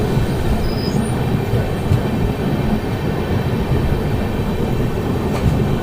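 LHB coaches of the 14341 Mussoorie Express at Haldaur station give a steady, broadband rumble of a train running on rails, continuous and fairly close, with no voices.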